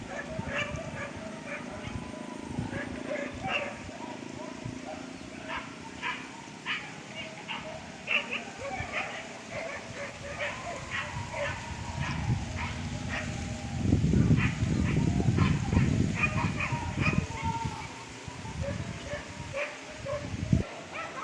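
Dogs bark and yip repeatedly in quick, uneven bursts during a wild boar hunt, the calls coming from mid-distance over rustling outdoor noise, with a louder rumbling stretch partway through.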